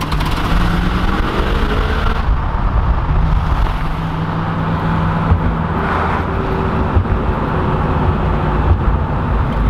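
An IROC-Z Camaro that has been cleaned of mold and given engine work, driving along with a steady, loud engine drone and road roar throughout, no talking.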